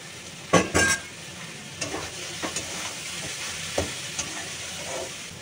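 Lentils frying with water spinach sizzle in a pan as cumin powder and grated ginger are stirred in; a couple of loud clattering scrapes come early, then softer intermittent stirring knocks over a constant hiss, with no talking.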